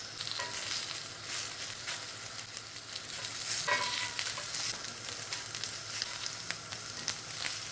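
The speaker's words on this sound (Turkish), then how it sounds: "Köftelerimi attım. Biraz kızardıktan sonra ters düz yapacağım." Köfte meatballs, eight in all, fry in a pan with a steady, dense sizzle and crackle, close and continuous throughout with a brief stir or shift midway.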